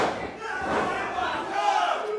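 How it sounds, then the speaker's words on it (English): A pro wrestling crowd roars and yells loudly through a tag team match, a thick, sustained wall of cheering voices that swells and falls with the action in the ring. "Crowd here loving it."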